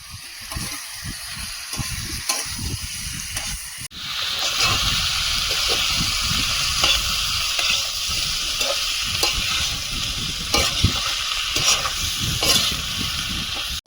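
Chicken pieces with slit green chillies and chopped tomato hit hot oil in a pan, bursting into a loud, steady sizzle with repeated scraping stirs of a spoon, close and continuous.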